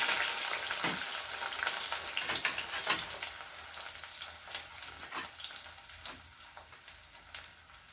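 Shallots and a handful of garlic cloves sauté in oil in a pan for a Chettinad-style vegetarian kuzhambu, giving a loud, steady sizzle with scattered crackles and pops throughout. No one speaks.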